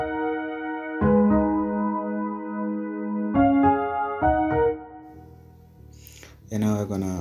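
Synth chords for a dancehall-afrobeat beat made in FL Studio, with the middle notes shifted for rhythm: sustained stacked chords play alone in several separate hits, with a brighter, busier chord rising at the end.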